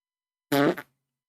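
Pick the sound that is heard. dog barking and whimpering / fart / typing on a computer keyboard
fart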